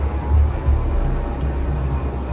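A small aircraft carrying a load of rice over the mountains of Indonesia toward Hitadipa gives a continuous loud engine drone, with deep throbbing swells early on and then an even, sustained roar.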